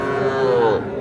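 A young Sahiwal bull calf at a cattle market gives one loud, close, drawn-out moo that falls away near the end.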